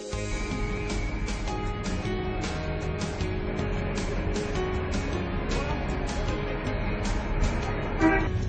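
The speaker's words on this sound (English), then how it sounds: "There's a crazy car rally going on, as you can hear" Car horns toot repeatedly in short bursts at a car rally of Bentley Mulsannes, over a steady roar of engines and traffic, busy and fairly close throughout.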